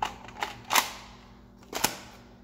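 Adventure Force Arsenal toy blaster shooting, sharp plastic snaps and clacks heard close up, a cluster of quick clicks followed by one firm shot and another after a short pause, with no speech.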